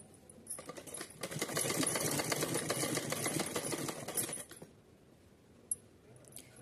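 A sewing machine stitches gota trim onto a small Kanha ji dress, running in one fast, steady mechanical burst of about three seconds before stopping, with a faint tick afterward.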